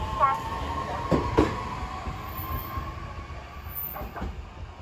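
A short two-car modern train at a station rumbles steadily with a sustained tonal hum and a few metallic clunks and clacks, heard from nearby.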